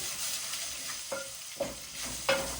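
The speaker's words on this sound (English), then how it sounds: "And then you crush in your beef cubes. Okay. Just like that. Give it a good stir." A spoon stirs crushed beef cubes into chakalaka in a pan, with a faint sizzle and three distinct scraping clinks against the pan, close and quiet.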